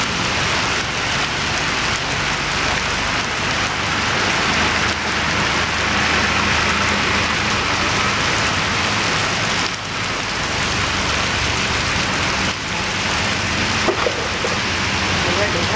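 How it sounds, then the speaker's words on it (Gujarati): Heavy rain pours down in a dense, unbroken roar that stays loud and steady throughout. "કડાકા ભડાકા સાથે ધોધમાર વરસાદ વરસી રહ્યો છે"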